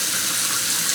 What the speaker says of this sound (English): leave the water on because, like, the white noise will, like, be more relaxing